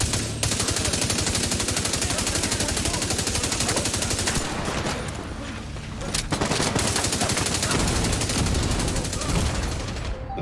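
In the video game Tom Clancy's The Division 2, rapid, sustained bursts of gunfire crackle loudly and almost continuously, with a brief lull midway before the shooting resumes.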